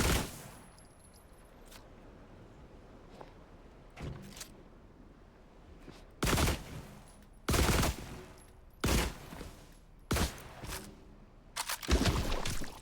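Rifle fire in The Last Caretaker, a series of short loud bursts of shots spaced a second or two apart after a quieter stretch, growing more frequent toward the end.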